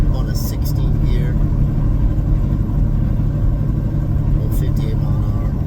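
A Peterbilt 389 semi truck with an 18-speed transmission climbs a grade in Wyoming in 16th gear at about 60 mph, its engine a constant deep rumble heard from inside the cab while a person talks.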